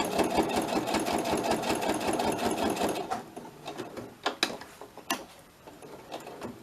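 A sewing machine stitches in a rapid, continuous mechanical whir for about three seconds while a scrapbook word embellishment is sewn, then stops, leaving scattered clicks and handling taps.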